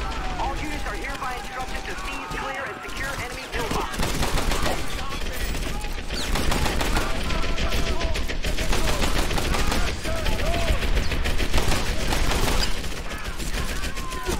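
Dense, continuous gunfire from the World War II shooter Medal of Honor Airborne, with overlapping rifle and machine-gun bursts and explosions forming a loud, unbroken battle din under an excited voice.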